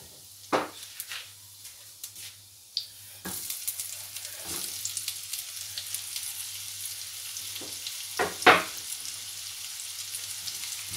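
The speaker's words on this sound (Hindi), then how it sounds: "इसमें मैं डाल दूंगी प्याज जो मैंने काट के बारीक के रखा हुआ है।" Finely chopped onions drop into hot oil and start to fry. A quiet start with a few light taps gives way to a steady close sizzle, with occasional sharp clatters of stirring against the pan.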